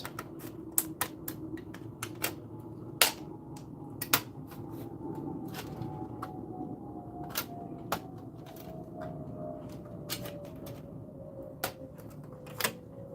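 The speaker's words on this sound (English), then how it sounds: "I'm just carefully cutting along to get rid of most of the excess." Scattered sharp ticks and soft snips of a blade cutting flat model kit pieces, irregular and close, over a low steady background hum.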